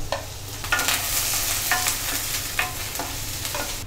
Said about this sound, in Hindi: पहले हमने प्याज के स्लाइस को डाला, अब हम स्प्रिंग ओनियन के वाइट पार्ट को भी डाल देंगे।